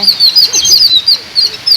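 Birds chirp and tweet in a lively, high-pitched chorus nearby at a farmhouse among coconut, areca and papaya trees, calls overlapping continuously.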